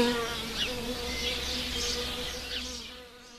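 A wool carder bee buzzes steadily and close by for a few seconds, its wingbeat drone holding a low hum with slight rises and falls in pitch, heard on its own without talk.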